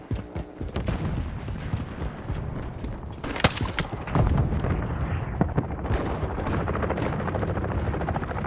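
Cargo helicopter in a Call of Duty game, a sustained rotor drone underneath dense combat noise with gunfire bursts and explosions; the roar stays loud and steady across the whole stretch, swelling slightly in the second half as it draws nearer.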